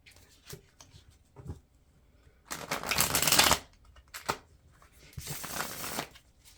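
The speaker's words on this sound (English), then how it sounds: "One more shuffle." Two bursts of cards being riffle-shuffled, each a crisp rapid flutter lasting about a second, with soft handling taps and clicks between them in a quiet room.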